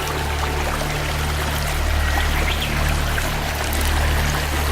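A small stream of river water runs past in an outdoor countryside spot, a steady, broad rushing trickle heard up close, with a low continuous hum underneath and no talking.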